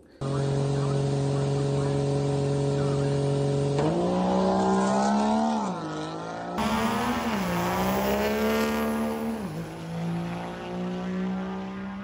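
A Duramax diesel truck makes a drag racing pass at a truck event, its engine droning loudly and steadily with rising pitch through shifts, heard close and continuous.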